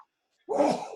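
A single short, sharp human sneeze bursts out suddenly after a moment of silence, close and fairly loud, with no talk during it.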